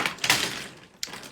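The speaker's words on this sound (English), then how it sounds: "my markers clattering on the ground." Markers clattering onto the ground, a quick cluster of close plastic clacks and taps followed by another sharp knock about a second later, with no speech over it.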